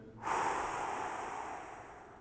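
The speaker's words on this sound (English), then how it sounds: "Take a slow breath in" One slow, deep breath, drawn in sharply and then let out in a long, soft airy exhale that fades gradually, close and alone with no talking.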